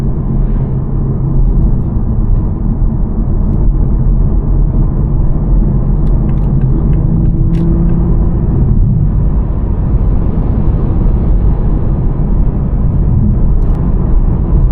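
Engine of a 2024 Toyota GR Supra A91 with manual gearbox, 390 hp, heard from inside while driving: a steady, loud, low drone with a slight pitch rise near the end, no talk.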